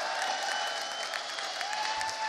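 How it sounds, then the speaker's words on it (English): A large arena crowd applauds and cheers continuously at a CS:GO esports grand final in Dallas, a dense, sustained wash of clapping with no pauses, heard at moderate distance. "the crowd is loving it"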